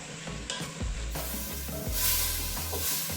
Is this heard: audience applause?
no